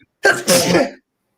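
One short human sneeze, a sharp intake followed by a loud burst, close and alone with silence around it.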